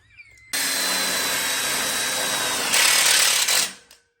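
Power drill driving a screw into a ConnecTube outdoor kitchen frame: a loud, steady whirring run of about three seconds that rises in pitch and strain near the end before stopping.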